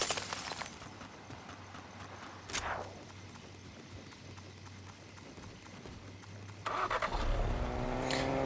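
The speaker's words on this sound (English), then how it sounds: "I did not know that guy was there until he started the car." A car starts up in the Fortnite video game, its engine rising into a broad, louder roar near the end after quieter game ambience and a brief swell earlier on.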